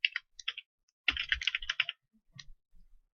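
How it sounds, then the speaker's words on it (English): Quick bursts of light computer keyboard typing, close and fairly quiet, with a short flurry of rapid keystrokes in the middle and scattered single taps before and after, with no voices. "I'll type something in here"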